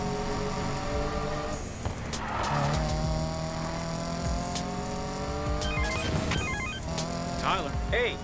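Car engine in the Need for Speed Payback video game humming and revving on a drive home, with tire squeals and skids layered over a continuous game soundtrack.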